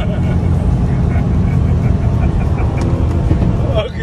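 A 2019 Mercedes-AMG GT C Roadster convertible's exhaust burbles with a deep, steady rumble close to the microphone, with people talking over it.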